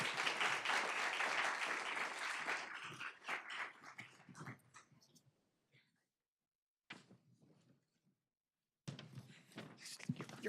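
An audience at a school board meeting gives loud, full applause that tapers off after a few seconds into scattered claps, followed by quiet gaps and faint room noise.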